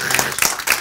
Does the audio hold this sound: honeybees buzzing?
no